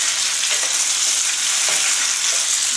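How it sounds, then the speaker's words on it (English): Pasta with melting gorgonzola and zucchini sizzling in a pan on low heat, a loud steady hiss broken by soft scraping stirs, close up with no voices. "Let's mix the pasta."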